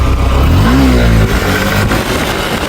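Honda SP 125 motorcycle engine revving hard during a wheelie attempt, a loud rising and falling engine note with a brief throttle swell, heard close up over rushing wind noise.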